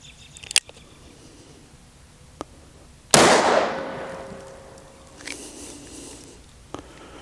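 A Smith and Wesson 29-3 Silhouette .44 Magnum revolver fired outdoors in the cold: one loud, sharp blast with a long ringing decay, surrounded by a few smaller clicks and taps.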